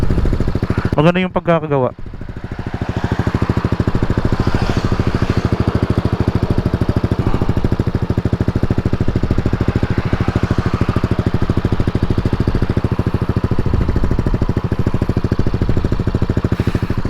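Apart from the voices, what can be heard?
Yamaha NMAX 155 motorcycle with JVT V3 power pipe exhaust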